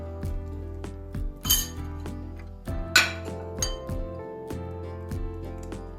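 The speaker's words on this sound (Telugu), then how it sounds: "ఇందులో ఉన్న పేస్ట్ అంతా తీసేసుకుని ఒక బౌల్లో వేసేసుకోవాలండి." A metal spoon clinks against a bowl while scooping out avocado flesh, giving a series of sharp, close clinks and scrapes spaced irregularly over steady quiet.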